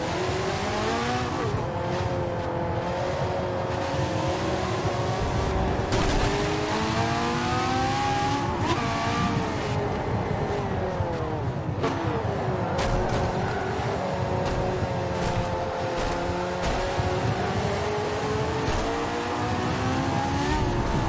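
Race car engine in Forza Motorsport 7 on Xbox One, roaring loud and continuous for the whole stretch, its pitch climbing under acceleration and dropping sharply at each gear shift, with repeated rising sweeps throughout.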